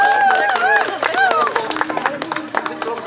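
Applause and cheering from a crowd at a show-jumping competition for a rider, loud and continuous, with voices and whistles rising over the clapping.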